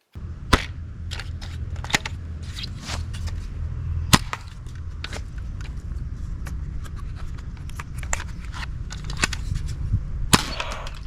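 Nerf sniper rifle toy gun firing, a few sharp snapping pops spaced apart over a steady low background rumble, each shot brief and fairly close.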